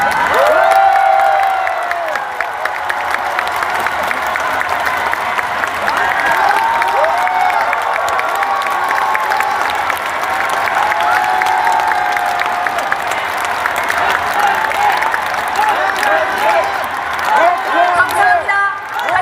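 Loud, sustained crowd noise of applause and cheering from a large audience at a political party leadership announcement, thick and continuous with shouts and voices mixed through it.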